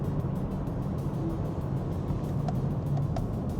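BMW G80 with an equal-length midpipe, exhaust valves closed in efficient mode, cruising in 8th gear: a low, steady, deep drone heard from inside the car, constant and fairly quiet with road rumble and no talking.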